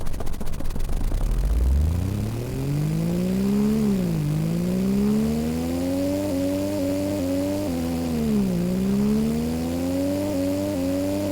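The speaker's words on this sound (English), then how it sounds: "This is like the loud car you hear in the street when you're trying to sleep" A loud car with a modified muffler in a video game starts up and revs, its engine tone sweeping up and down in rising, falling surges that stay loud and close throughout, with no voices.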